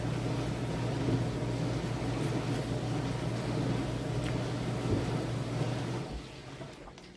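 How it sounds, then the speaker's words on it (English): A running dishwasher fills the room with a steady broadband whoosh and low hum, then drops to a quieter rumble near the end. "I apologize for the noise. I'm running the dishwasher."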